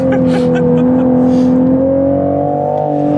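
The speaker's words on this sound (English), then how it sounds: "I can barely hear you when I'm flooring it. It's so loud." A 2023 Toyota GR Supra manual engine roaring steadily under full throttle on a track, its pitch slowly climbing, close and droning with a faint voice underneath.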